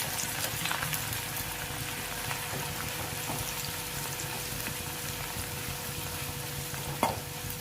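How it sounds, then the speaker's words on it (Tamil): Sliced onions frying in hot oil in a pan, a dense steady sizzle and bubbling that holds through the whole stretch, capped by one sharp clink near the end, with no speech. "இந்த ஆனியனை நம்ம லைட்டாக ஃப்ரை பண்ணி எடுத்துக்கலாம்."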